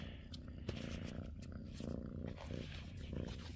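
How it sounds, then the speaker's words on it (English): A stray cat purring steadily up close, a continuous low rumbling drone that carries on without a break for the whole stretch. "This is a stray cat that thinks he's supposed to be in every video"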